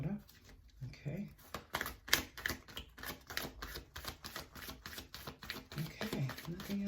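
A deck of tarot cards being shuffled, with rapid, dense flicking and riffling clatter that continues for several seconds, close and fairly quiet, with a voice speaking in places.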